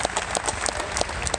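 Audience at a Second Amendment rally in Tallahassee, Florida, applauding speaker Caitlin Bennett, a dense steady wash of many hands clapping at once, loud and continuous with no talking heard.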